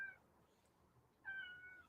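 A house cat meows twice at a moderate distance, a short call followed by a longer drawn-out one after a pause, over quiet room noise with no talk.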